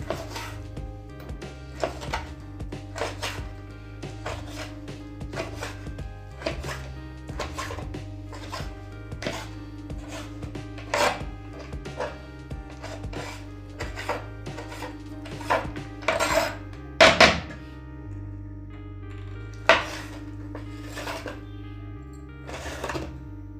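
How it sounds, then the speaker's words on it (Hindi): A knife finely chops bitter gourd (karela) on a board in quick, steady strokes, each a crisp tap, with a few louder knocks near the end over a low steady tonal hum. "ये सब पकड़ते हैं और बारीक बारीक काट देते हैं।"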